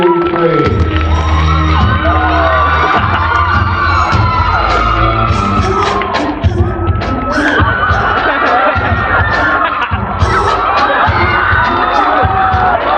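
A stage show audience at a hypnotism performance roars with loud cheering, whoops and yells, dense and sustained throughout, with voices shouting over the crowd.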